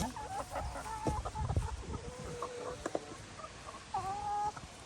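Chickens clucking close by, several soft, irregular clucks and short warbling calls over a few seconds, with no talk.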